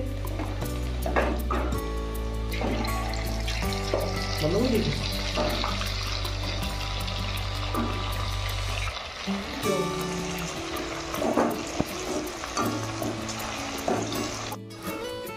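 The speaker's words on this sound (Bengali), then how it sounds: "চলছে এদিকে পকোড়া ভাজা" Pakoras deep-frying in oil, a continuous bubbling crackle running throughout, with a low droning hum, intermittent clatter and background noise of a busy home kitchen.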